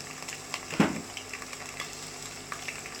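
Soft sizzling and stirring of green chillies and curry leaves sautéing in a pan for a Tamil fish curry, quiet and close, with one sharper scrape of the spoon.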